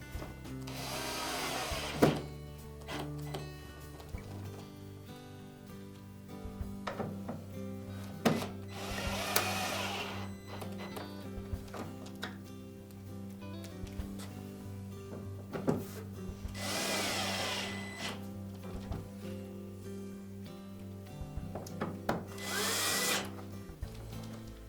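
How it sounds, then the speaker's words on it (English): Power driver sinking screws into a Frigidaire dryer's outer door during lens replacement, several short bursts of whirring spread across the clip, close and fairly loud, with small clicks and handling knocks between them and no talk. "Then next we'll put the remaining 5 screws in, and use caution with these that we don't over tighten them."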